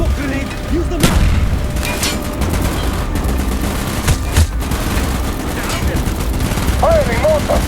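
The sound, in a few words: mortar firing in video game Black Ops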